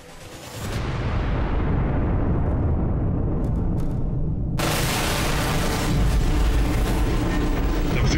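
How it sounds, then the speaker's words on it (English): Explosions during an attack on Kyiv, a heavy continuous rumbling roar that swells in after a moment and stays loud throughout, with a sudden brighter blast-like surge partway through. "Explosions."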